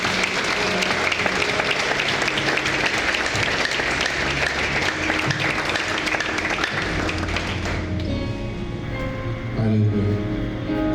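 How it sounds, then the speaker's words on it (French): A church congregation applauds and cheers after a prayer. The dense, loud clapping runs continuously for the whole stretch and eases slightly near the end. "Vous pouvez acclamer Seigneur."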